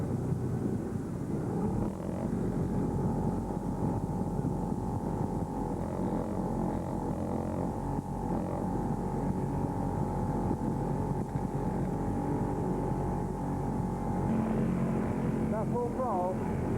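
A fishing boat's engine runs at full throttle while heading into a harbour, a constant droning hum that holds steady throughout, close and loud, with a brief faint chirping near the end.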